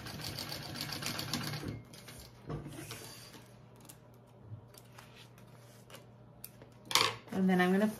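A sewing machine basting bag fabric runs in a fast, steady whir for a couple of seconds, pauses, then gives short bursts of stitching, with soft handling noises and a voice briefly at the end.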